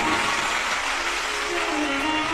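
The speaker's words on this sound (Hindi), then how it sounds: "एक बार दंडवत प्रणाम करते हुए जोरदार ताली बजाकर स्वागत करें" An audience at a Shiv Mahapuran religious discourse claps loudly and steadily in a dense, continuous wash of applause to welcome a visiting saint, with faint voices mixed in.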